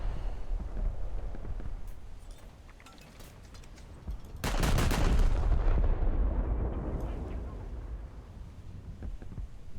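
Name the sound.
naval guns firing on French warship in War Thunder video game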